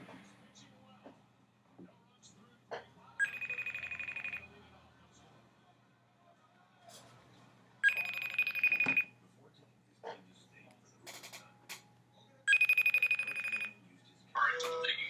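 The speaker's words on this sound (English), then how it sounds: "So we're going to get Mike here on the phone" A telephone rings for a podcast call, three distinct electronic ring bursts about a second long, spaced roughly every four to five seconds, with quiet room noise and a few small clicks between them.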